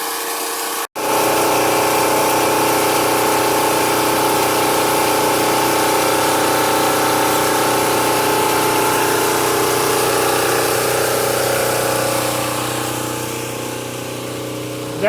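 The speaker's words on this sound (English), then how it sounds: "That's the generator that all that I showed you in the shed would be used in. It's so noisy I couldn't talk by it." A loud generator, the kind run from a shed, drones steadily and alone for about fifteen seconds, with a low engine hum and broad mechanical roar that ease slightly near the end.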